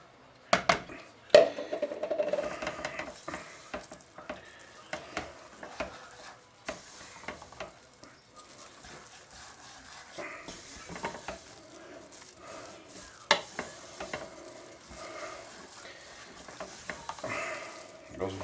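A spoon scrapes and knocks against a pan while thick Chinese curry sauce made from scratch is stirred, giving close, irregular clacks and scraping strokes over a faint sizzle, with someone speaking at times.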